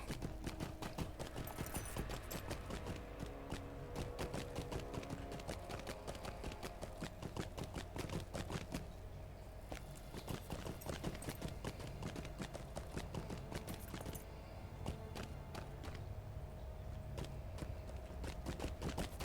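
Goat mount hooves clip-clopping steadily in Lord of the Rings Online, a quick continuous patter of hoofbeats over ambient game music and background sound, with no talking.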